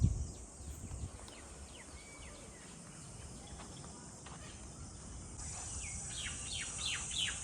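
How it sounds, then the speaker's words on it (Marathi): Birds chirp and call in scattered, mostly distant bursts amid steady insect buzzing at a scenic natural spot near a river in Panvel, with a constant outdoor hum underneath and no talking. "इथे पक्ष्यांचा तुम्हाला आवाज येत असेल"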